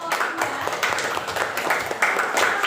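Classroom applause for a student group: a steady patter of many hands clapping at close range for a few seconds, dense and even throughout.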